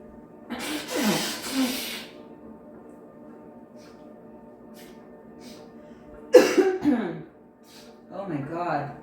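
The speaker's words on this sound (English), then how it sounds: "Please excuse me, I gotta blow my nose." A person blows their nose in two loud, rough, breathy blasts separated by a quiet pause, followed by a brief stretch of nearby talking.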